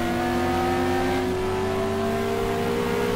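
A GT3 race car engine accelerating around Interlagos in a racing video game, a loud steady high-pitched drone with rising harmonics, close and continuous with no talk over it.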